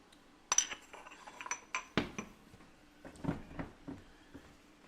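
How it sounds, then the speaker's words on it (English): Mortar and pestle grinding an ingredient while cooking at home, heard as a run of irregular clinks, taps and scraping knocks, close and moderately quiet, with no talking. "I'm going to go ahead and use my mortar and pestle to grind this bad boy up"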